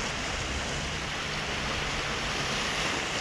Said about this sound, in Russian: Волны сильные.